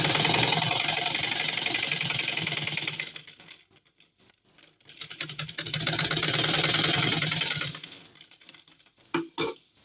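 A sewing machine stitches the lower frill onto a small child's frock, running in two steady, loud bursts of rapid mechanical whirring separated by a short pause, with a few clicks at the end.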